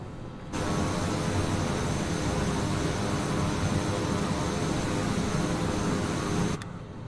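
Steady, loud engine roar of an aircraft taking off in Microsoft Flight Simulator 2020 over Iceland, starting abruptly and holding at a constant level for several seconds before cutting off, with no talk.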